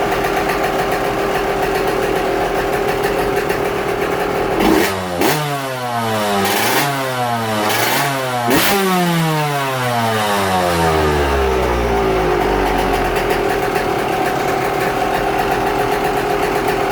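A Yamaha YZ125 two-stroke dirt bike engine with a freshly rebuilt piston warms up and idles steadily, with a few sharp throttle blips that rise and fall in pitch; loud and close, with no talking.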